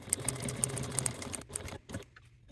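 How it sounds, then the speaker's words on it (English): A sewing machine stitches leather wallet pieces along a 3/8 inch seam line, a rapid mechanical chatter that runs steadily for about a second and a half, then stops and starts in short bursts, close and moderately loud. "I want to take this back to the machine and sew along that 3/8 of an inch line that was placed earlier"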